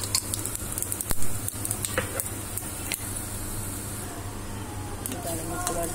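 Cumin seeds crackle and sizzle in hot oil in a pan while veg pulao is being made, giving a steady, close hiss with scattered sharp pops over a low background hum.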